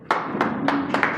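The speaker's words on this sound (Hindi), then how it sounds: "तो RV गिरी जी के लिए चाहूँगा जोरदार तालियाँ।" A few separate hand claps at a public gathering in Khajoori Khas, about four sharp slaps spaced unevenly over a second, close and fairly loud with no voices.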